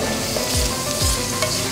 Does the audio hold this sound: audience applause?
no